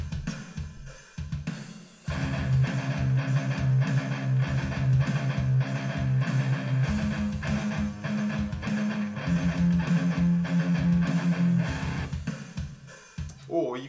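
Metalcore electric guitar playing a palm-muted gallop rhythm over a drum beat, loud, chugging and continuous after a brief start, shifting pitch a couple of times through the riff.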